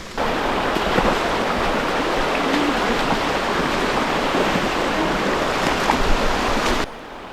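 Water rushes steadily, a continuous broadband flow of a stream close by on the path to Padsali waterfall, running evenly for several seconds before cutting off abruptly.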